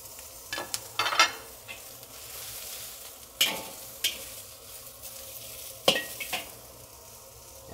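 Bok choy stir-frying in a hot wok: a soft steady sizzle with intermittent scraping and tossing bursts from a utensil, close up and without talk.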